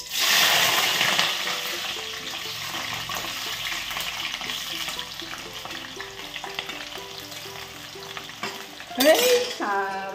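Mixed vegetables (carrot, potato and tomato) fry in a pan with a steady sizzle while a utensil stirs and scrapes in a regular rhythm, ending in a brief louder burst of spattering.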